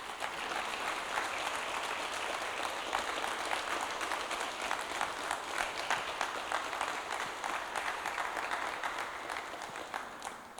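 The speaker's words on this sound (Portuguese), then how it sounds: "e uma salva de palmas para Jesus" A church congregation at a Thursday worship service applauds steadily for over ten seconds, a dense, sustained roar of many hands clapping that fills the hall at even loudness.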